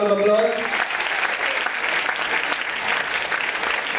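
Applause from the audience at a young authors contest ceremony, a short voice at the start giving way to steady, full clapping that holds evenly for several seconds.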